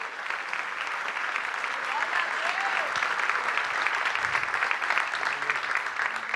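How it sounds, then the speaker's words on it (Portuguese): A church congregation applauds during a worship celebration service, with sustained dense clapping and cheering under voices and a continuous crowd wash. "Aplauda o Senhor, glorifica o Senhor"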